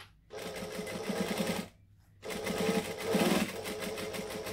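A sewing machine stitches a clutch bag in two runs of rapid, steady motor-driven stitching, close and fairly loud, split by a short pause.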